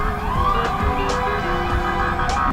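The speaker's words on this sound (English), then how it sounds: "all the sirens is going on and there's traffic non-stop" Wailing sirens rise and fall over constant Chicago city traffic noise, loud and continuous throughout.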